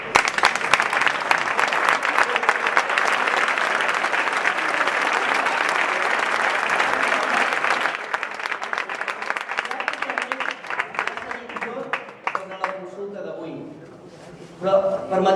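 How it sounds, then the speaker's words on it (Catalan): A large crowd at a Mataró independence referendum event applauds loudly and densely for a sustained stretch, then the clapping thins to scattered claps and fades. "demano un fort aplaudiment"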